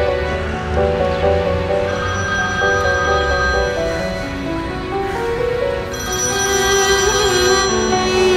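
A telephone ringtone plays over a dense musical bed in a Turkish drama scene, tonal and steady at moderate loudness, with no speech during the ring.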